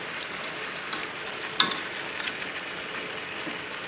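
Chicken pieces with tomato, garlic and mushrooms fry over a low flame in a covered pan, giving a steady soft sizzle with a brief clink or stir partway through.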